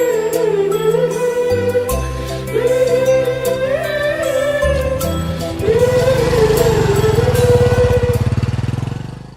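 A motorbike engine drones loud and close, its pitch rising and dropping through gear changes as it pulls away, with a faint metallic jingle on top and the sound easing off at the very end.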